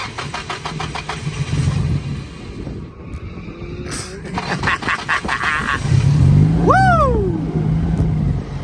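A Nissan SR20 car engine running on E85 fuel, freshly oil-changed, cranks and catches, then idles and revs loudly up close, with a brief high whine rising and falling as the engine surges.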